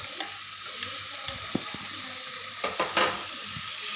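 Kerala-style egg curry sizzles and fries in a pan with tomato, curry leaves and green chillies while a spoon stirs it, giving a steady hiss and a few scraping knocks against the pan.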